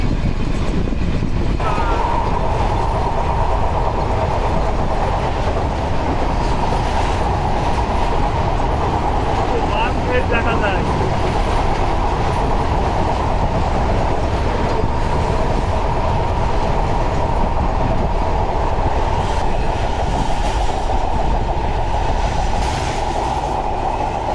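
A train rolls along steadily, its low rumble and rattling wheels loud and continuous, with a brief screech partway through.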